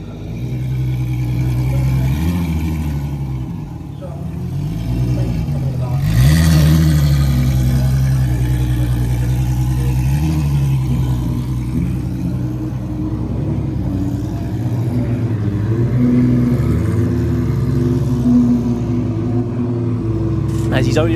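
A Volkswagen Jetta drag car revs and accelerates steadily at a drag racing qualifying round, a loud droning roar with rising pitch, while a voice talks over it.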